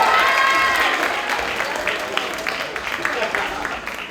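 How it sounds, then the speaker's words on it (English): An audience at a middle school Wizard of Oz performance claps and cheers for the teacher, a continuous crowd applause with voices calling out over it throughout. "Please come out, clap"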